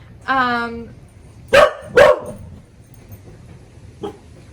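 A pet dog gives a drawn-out whimpering yelp, then two sharp, loud barks close by, and a faint last yip after a pause, all in a quiet room.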